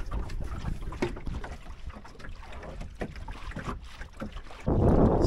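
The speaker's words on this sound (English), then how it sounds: "So there's the gust we've just been waiting for." Wind buffeting a sailboat running under spinnaker, a low blustery rumble with water wash that surges abruptly louder near the end as the gust hits.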